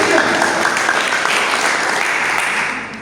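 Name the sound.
congregation applause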